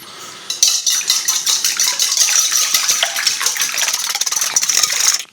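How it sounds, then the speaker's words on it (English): A whisk or fork beats eggs by hand in a bowl, a rapid rhythmic clatter of metal against the bowl repeating steadily for about five seconds, close and fairly loud, after a short quiet start. "You wanna beat the eggs until like smooth consistency"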